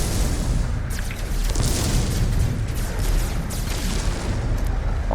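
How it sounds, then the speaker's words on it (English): Rocket explosions in the video game No Man's Sky produce a continuous loud booming rumble, dense and unbroken, with a few sharper bursts cutting through the roar. "I'm using rockets."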